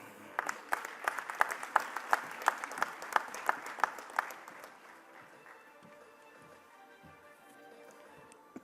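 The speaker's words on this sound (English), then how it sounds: "a warmer round of applause for our leader" Audience applause at the MEWA 2025 grand inauguration ceremony, with a clear run of rhythmic claps for about four seconds that then fades into a soft crowd murmur.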